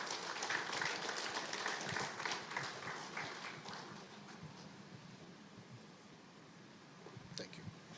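Conference audience at an SME business event applauds, a crowd of hands clapping at a moderate distance that gradually thins and fades, with a few voices underneath.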